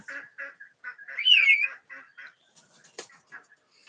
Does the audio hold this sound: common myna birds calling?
yes